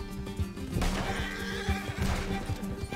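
A horse in Red Dead Redemption 2 gives a loud, close whinny over steady hoofbeats and a busy game soundscape.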